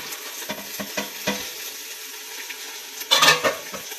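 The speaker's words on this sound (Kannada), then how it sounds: "ಕಾಳನ್ನ ಸ್ವಲ್ಪ ಎಣ್ಣೆಯಲ್ಲಿ ಫ್ರೈ ಮಾಡ್ಕೊಳ್ಳೋಣ" Sprouted lentils and potatoes frying in oil in a pan with onions, heard as a low sizzle broken by scattered stirring scrapes and clinks, with a louder burst of scraping near the end.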